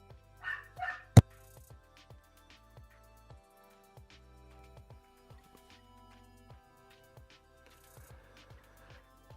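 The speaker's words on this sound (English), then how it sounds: "Sorry for my dog barking." A dog barks a few times in quick bursts early on, fairly close, followed by a single sharp loud bark, then only quiet background with soft music-like tones and no talking.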